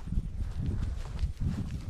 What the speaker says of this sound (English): My little baby horse.